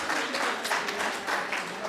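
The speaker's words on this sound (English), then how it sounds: "Please give another big round of applause to Christina Manthe and the Jefferson County League of Women" Applause from the audience at a city candidate forum. The clapping is brief, dense and steady and lasts under two seconds.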